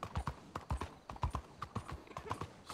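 A horse's hooves clip-clop at a steady walking rhythm on the streets of Saint Denis in the Red Dead Redemption 2 video game, crisp, evenly spaced hoofbeats sounding alone at moderate level.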